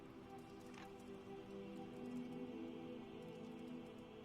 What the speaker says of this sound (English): Still raining on the Abbey grounds.